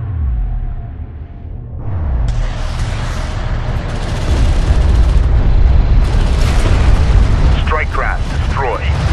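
Strike craft blowing up in Homeworld: Deserts of Kharak, loud booming explosions and crackling debris building over several seconds amid a dense rumbling battle, with radio-style voices talking over it.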